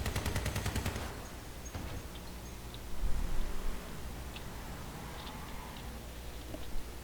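Machine gun fire in the vehicle combat game Crossout: a rapid, evenly spaced burst of shots up front for about a second, then quieter scattered impacts and rumble under a steady noisy background.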